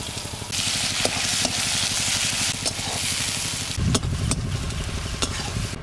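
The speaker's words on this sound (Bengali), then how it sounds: "তেল গরম হয়ে গেছে, এবার কেটে রাখা ছোট ছোট করে কেটে রাখা 2টো পেঁয়াজ দিয়ে দিচ্ছি।" Chopped onions dropped into hot mustard oil for a prawn and gourd curry, producing a loud, steady, close sizzle that surges into a fuller crackle partway through, with occasional sharp spatters.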